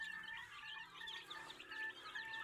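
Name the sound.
chicks clucking in their pen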